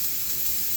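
Steam leaks from a Donkin steam steering engine in a constant, bright hiss, loud and close, with a faint low rumble beneath and no pauses.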